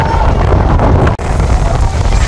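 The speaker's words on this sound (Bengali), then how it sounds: "ইলিশা উপকূলে প্রচুর পরিমাণে বাতাস" Strong wind buffets the microphone on the Ilisha coast at a flooded launch ghat during stormy weather, a loud continuous rumbling roar with one brief dropout.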